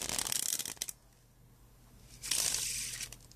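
A deck of playing cards riffled in a rifle shuffle, two crisp bursts of rapid flicking cards close to the mic separated by a quiet pause, with no talking.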